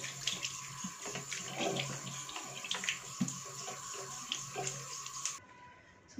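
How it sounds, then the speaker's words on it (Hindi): Tap water runs steadily into a basin while a dried homemade face pack is washed off, with continuous splashing and small irregular splatters close by, cutting off abruptly near the end. "So now I will wash this and I will show you."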